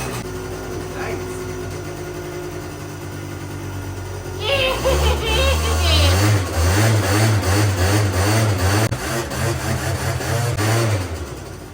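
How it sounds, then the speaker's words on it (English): A Genuine Roughhouse 50 scooter, just repaired after a fuel problem, cranks for several seconds, then fires up and revs in choppy bursts before settling into a loud, close, buzzy running note. "She runs, and that's how you test a scooter."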